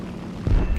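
A missile striking an aircraft in the War Thunder flight combat game: a single short dull boom rising out of a low rumble partway through, no speech.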